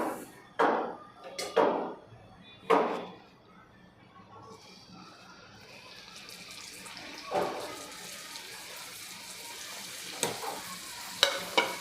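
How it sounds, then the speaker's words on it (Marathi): Wheat-dough modaks crackle in hot oil, with a few sharp clattering knocks at the start, then a quiet, steady bubbling sizzle in the background and occasional small clinks. "आपले उरलेले मोदक आहेत ते तळून घेऊया"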